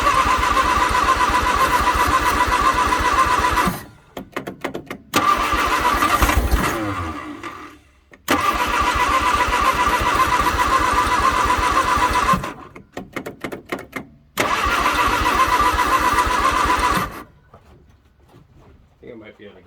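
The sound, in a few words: 1962 Vauxhall Victor engine cranking, trying to start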